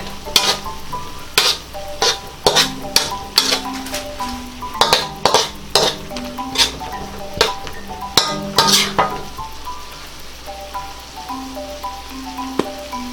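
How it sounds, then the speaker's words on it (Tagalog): Shrimp are stirred in a pan after calamansi juice goes in, making a crisp sizzle under loud, rhythmic spatula clacks and scrapes that come every half second or so, then give way to a quieter simmer. "Ngayon po ay ready na pong ilagay ang ating calamansi juice. Pagkatapos po ay hahaluin natin ng konti."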